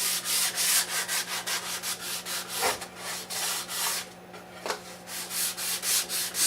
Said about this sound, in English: I don't scuff it a lot because I did a lot of good sanding to begin with